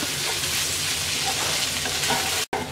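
Egg and okra (bhindi) frying together in a pan while being stirred, a steady close hiss of sizzling oil that runs evenly and is broken by one brief dropout near the end, with no talking.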